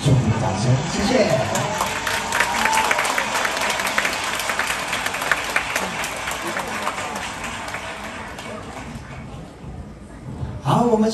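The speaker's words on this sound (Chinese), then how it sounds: "再给我们新人一个浪漫祝福的掌声" Guests at a Taiwanese wedding applaud the newlyweds, a dense sustained burst of clapping that thins near the end, with talking over it.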